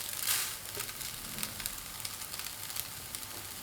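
A thin pancake made from flour and egg fries in a frying pan, giving off a soft, steady sizzle with faint crackles and no voices.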